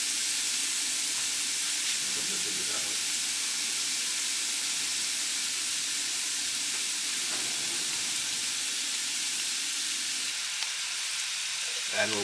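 Cheeseburger empanada filling frying in a hot pan makes a loud, steady sizzle and hiss that holds unbroken throughout, with faint scraping stirs now and then.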